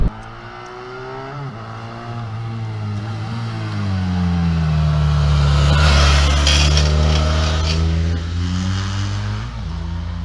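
BMW F800GS Adventure 2017 motorcycle engine pulling hard in second gear, a loud, close rising drone that climbs steadily in pitch, dips briefly, then climbs again, with wind rush and no talking.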